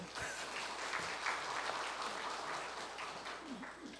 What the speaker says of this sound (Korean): 박수 한번 치실래요?